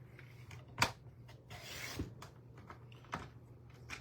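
A paper trimmer cuts along the edge of paper: a sharp click, then a short dry scraping slice as the blade passes, followed by faint handling. Quiet and close, with no talk.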